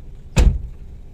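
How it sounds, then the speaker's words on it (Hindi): A car door slams shut once with a dull, heavy thud, close and loud, followed by quiet. "दरवाजा इसके कोने में बंद नहीं होगा, मैंने किया।"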